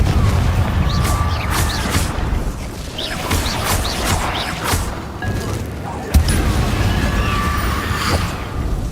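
Confringo spell explosions boom and crash over the continuous din of combat in Hogwarts Legacy, with thuds and clatter throughout and a sharp blast near the end.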